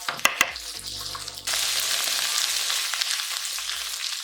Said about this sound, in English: and just stir fry it